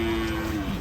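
Rossi, a giant cow billed as one of the biggest in Indonesia, lets out a single sustained low moo, close and steady throughout, with no talking over it.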